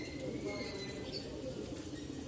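Soft, low cooing of domestic pigeons in Lalbagh, Dhaka murmurs continuously in the background, fairly faint and steady, with no clear talk over it.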